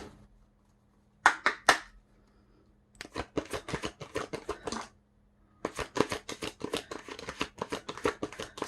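Tarot cards are shuffled in several quick bursts of crisp riffling and flapping, close by, separated by short pauses, with no talking.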